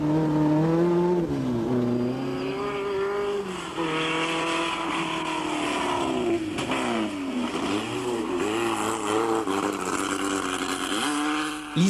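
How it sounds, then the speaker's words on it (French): An Alpine A110 Berlinette 1800 Group 4 rally car, driven by Bernard Darniche, is heard in a continuous run of loud revving engine, with the pitch climbing and falling through gear changes. Music plays underneath the engine. "cette magnifique berlinette 1800 Groupe 4 que conduit Bernard Darniche"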